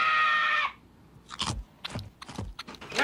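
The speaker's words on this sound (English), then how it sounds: "Check out the smooth, chocolatey outside, the crispity, crunchity, peanut buttery inside." Several crisp crunching bites into a crunchy Butterfinger candy bar sound in a cartoon scene. A brief tonal sound ends just before the quick, close, irregular chomps begin.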